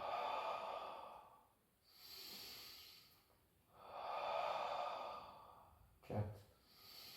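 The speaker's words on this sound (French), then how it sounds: "j'inspire quand je ramène, j'expire quand j'éloigne" Slow, deep breaths in and out during a fitness exercise, three long audible breaths of rising and falling loudness with a brief sharper sound near the end, close to the microphone and without spoken words.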